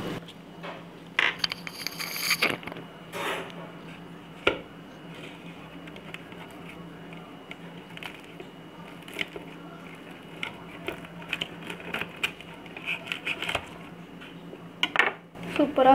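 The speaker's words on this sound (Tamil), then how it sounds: "இப்போ நான் இதை உங்களுக்கு கட் பண்ணி காட்டுறேன்" A knife cuts through a crispy fried vegetable paneer spring roll on a plate, giving scattered sharp crunches, crackles and scrapes against the dish over a low steady hum, with a dense burst of crunching early on.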